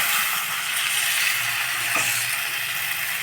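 Steady sizzling of ridge gourd and chickpeas sautéing in a hot pan, constant and close, with a brief scrape of a utensil midway and no talking.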